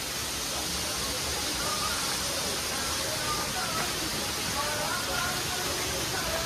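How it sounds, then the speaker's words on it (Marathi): Water streams down stone temple steps on the way to the Ekvira shrine near Khandala, a constant broad rushing hiss that stays loud and even throughout. "ते बघू शकता तुम्ही पायऱ्यावर किती सुंदर इतकं पाणी येतं"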